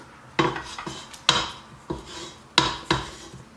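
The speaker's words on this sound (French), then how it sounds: "on corne un petit peu les bords de notre robot" A utensil scrapes butter and icing sugar off the sides of a food processor bowl while apple tart dough is prepared, giving several sharp, close scrapes and knocks at irregular intervals with no speech.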